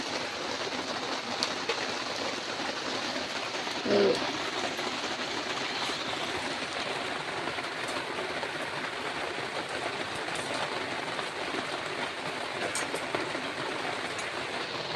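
Rain falling steadily in Maredumilli forest, a continuous soft hiss of drops on leaves and surfaces, fairly quiet and even throughout, with one brief knock partway through.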